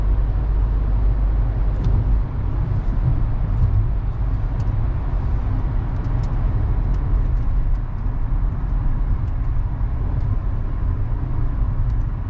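Steady low roar of cars rushing along a road, a continuous loud rumble with no breaks and no voices.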